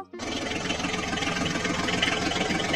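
A mini tractor's engine starts and settles into a steady, loud chugging idle at close range, running continuously at a dirt-loading spot beside a JCB.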